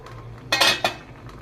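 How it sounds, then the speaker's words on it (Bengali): A metal lid comes off a steaming pot of semolina dhokla in two quick, close clinks and clatters, followed by a quiet background with no voices. "পনেরো মিনিট পর ঢাকনাটা তুলে দেখে নিচ্ছি"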